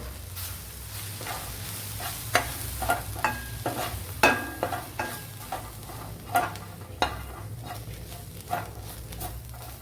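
Tomato masala with added coriander powder being stirred and fried in a pan for a quail egg stew, with a steady low sizzle and repeated scraping strokes of a spoon, close and alone.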